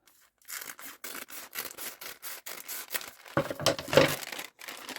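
Rhythmic crunching snips of scissors cutting through cardboard, a dozen short strokes with brief pauses, close and fairly quiet, ending with rougher tearing.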